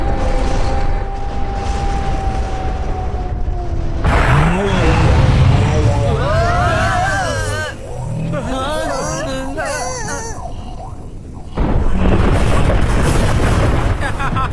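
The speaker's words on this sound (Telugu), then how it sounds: "మన పిరంగి ఎంత బలమైందో చూసారా? శిల్పం నేల కూలింది." Cannon fire and explosions in an animated Doraemon movie battle scene, with loud booms and rumbling mixed with excited shouting voices and music throughout.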